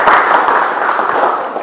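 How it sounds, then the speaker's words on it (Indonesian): An audience at a university teaching session gives a short burst of steady applause, many hands clapping together at close range for a moment. "Kita kasih aplaus untuk"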